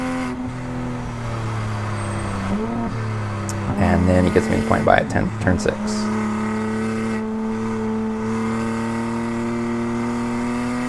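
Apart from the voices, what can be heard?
Toyota Supra driving on race track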